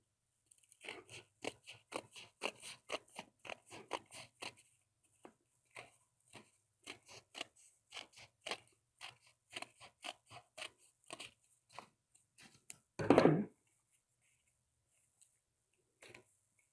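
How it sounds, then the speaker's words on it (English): Scissors snip through a few book pages at a time, a rapid series of crisp close cuts followed by slower, spaced snips, with one louder rustle of paper near the end. "I can just take a few pages at a time and then I can cut it"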